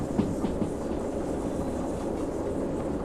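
Train in the Derail Valley video game rolling steadily over wet rails, a continuous low rumble with faint clickety-clack of wheels on joints early on, fairly close and unbroken throughout.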